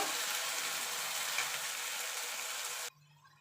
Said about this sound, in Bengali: আমি টমেটোটা গলা পর্যন্ত আদা রসুনটা কাঁচা গন্ধ যাওয়া পর্যন্ত এটাকে আমি কষিয়ে নেব